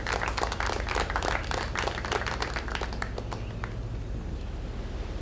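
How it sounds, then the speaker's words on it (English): In-game applause effect from Dark Age of Camelot, a crowd of claps over a low steady game hum, dense at first and thinning out to a few scattered claps. "Here, have some applause."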